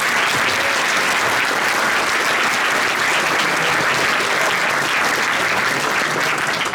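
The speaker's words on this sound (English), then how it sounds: "So a round of applause for the band." Loud, sustained applause from an audience for a youth jazz orchestra at a Sunday jazz event, dense continuous clapping throughout.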